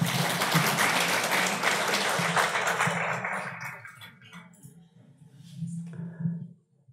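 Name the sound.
audience applause for participants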